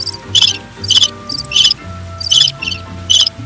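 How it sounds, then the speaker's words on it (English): Crickets chirp in loud, close, rhythmic bursts, pulsing trills repeating roughly every half second over a low background hum. "The crickets should just keep going."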